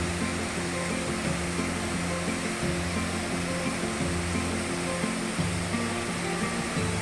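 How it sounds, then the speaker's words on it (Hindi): Small waterfalls pour into the Mandakini river near Sonprayag, Uttarakhand, giving a steady, dense rush of falling water that stays loud and even throughout with no voices. "ये देखिए ऐसे छोटे छोटे झरने मंदाकिनी नदी में जाके मिल रहे हैं"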